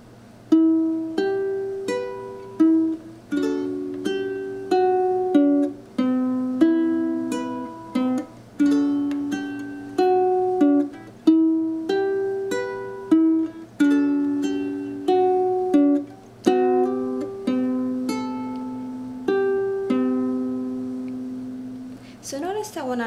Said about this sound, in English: So all together, the B section sounds like this.